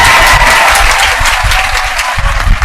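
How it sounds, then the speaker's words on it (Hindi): Loud applause from a crowd at a coaching academy event in Patna, steady dense clapping that carries on throughout without a pause. "एक बार इनके लिए जोर से ताली होना चाहिए।"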